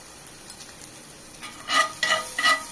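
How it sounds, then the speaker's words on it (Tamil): Grated coconut stirred into a pan for coriander chutney, quiet at first, then soft scraping and faint sizzling strokes building over the last second, with no voices. "இப்போ வந்து நம்ம ஒரு கை தேங்காய் துருவி வச்சுட்டு அதை ஆட் பண்ணிக்கலாம்."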